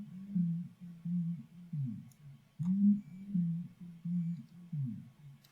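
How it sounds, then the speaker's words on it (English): A steady, pure humming tone, smooth and sine-like, pulsing in a slow looping rhythm with brief dips between repeats. "it sounds like a sine wave, doesn't it?"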